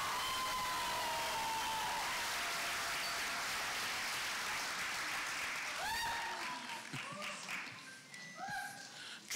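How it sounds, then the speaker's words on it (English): A graduation audience at Helen Bernstein High School bursts into sustained, dense applause that fills most of the moment before thinning into scattered claps and a few distant cheers at the end. "I'm going to give a round of applause to Glenda, who did such an awesome job over here."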